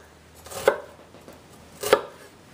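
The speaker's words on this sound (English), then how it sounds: "take your knife and just kind of do thin slices going all the way up" Two crisp knife strokes cut thin slices through an onion on a cutting board, spaced about a second apart. The cuts are close and clear over a quiet kitchen background.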